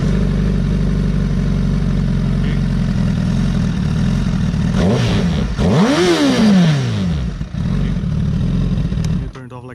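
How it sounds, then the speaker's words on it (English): A 2017 Honda CBR1000RR motorcycle engine runs at a steady, loud idle up close, then revs up sharply midway and settles back, with a voice briefly heard over it. "if you hold this button, the bike is gonna start."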